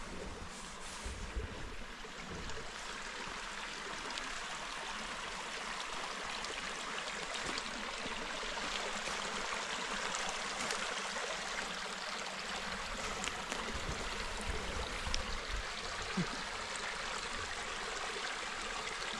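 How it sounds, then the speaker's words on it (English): Water flowing through a creek in a park on a chilly morning: a continuous, broadband rushing and babbling, steady and fairly close, with no talking over it. "Seeing the creek is nice."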